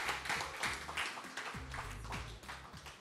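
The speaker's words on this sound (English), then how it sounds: "Please give her a round of applause." Audience applause for a speaker at a UNDP Young Africa Innovate Programme event: a faint, steady wash of many hands clapping, heard from some distance with a low rumble beneath it.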